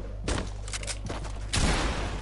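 Shotgun fire in Fortnite, a few heavy booming blasts spaced around half a second apart, loud and close over a busy game background.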